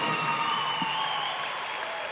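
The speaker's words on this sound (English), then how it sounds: "How about a round of applause?" A crowd applauds at a five-gaited horse show world championship, a sustained dense roar of clapping filling the arena, loud and steady throughout, with no clear speech.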